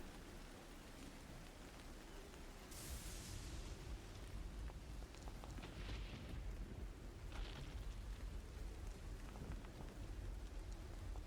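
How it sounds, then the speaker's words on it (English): A thunder crack sound effect set over steady rain: constant hiss of falling rain, with a sharp bright burst partway through followed by rumbling swells, all moderately faint and without talk. "a peal, a thunder crack, unlike anything you've ever heard, erupts through the space"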